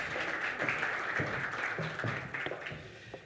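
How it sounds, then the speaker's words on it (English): Audience applause at a leadership dialogue in Zimbabwe rings out for a speaker, moderately loud clapping with some distinct individual claps in a steady stream. "let's give him a wonderful round of applause"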